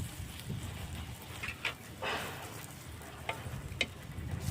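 Corn paratha frying in a pan gives a low, continuous sizzle with a few brief spatula scrapes and crackles, faint and close, with no speech.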